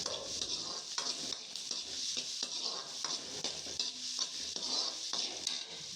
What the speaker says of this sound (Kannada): ಬೆಣ್ಣೆಲೆ ಈರುಳ್ಳಿನೆಲ್ಲ ಚೆನ್ನಾಗಿ ಫ್ರೈ ಮಾಡ್ಕೋತಾ ಇದ್ದೀನಿ